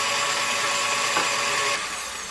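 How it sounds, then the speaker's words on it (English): An electric mixer beats maple meringue at medium speed in a bowl. It gives a steady, close motor whir that holds evenly for about two seconds, then drops slightly in level, with no voices. "We're going to start by just turning our mixer on a lower speed, maybe medium speed."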